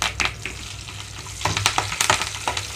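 Hot oil sizzles and crackles with sharp pops as lentils and chopped dried red chillies fry in a pan for tempering, close and continuous.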